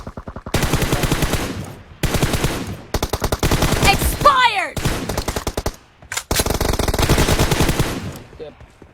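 Rapid automatic gunfire from a PUBG Mobile team deathmatch, loud, close bursts of repeated shots broken by short pauses, with a few ricochet-like whines in the middle and players talking over it.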